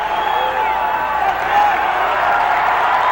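A basketball arena crowd at a 1980 college game in Pullman roars and applauds steadily, a dense, loud wash of cheering that swells slightly midway and never lets up.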